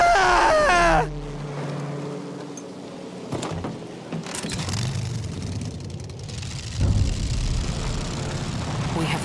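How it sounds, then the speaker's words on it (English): An airplane in a Battlefield game roars past overhead, a loud sustained engine drone that swells and fades amid a steady rumbling battle ambience. "Plane in sight!"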